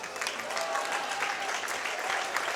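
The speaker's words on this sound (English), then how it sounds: "Give Tanner a round of applause." Crowd at a Dakota State University men's basketball game applauding a player, steady clapping from a gym audience held at moderate level for the whole stretch, no talk over it.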